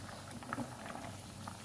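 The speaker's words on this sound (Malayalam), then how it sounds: "ചാറൊക്കെ കുറുകി നല്ല തിളച്ച് റെഡിയായിട്ടോ" Fish curry gravy bubbling in a pot, soft close blips and pops of a thickening simmer, faint and continuous for a brief moment.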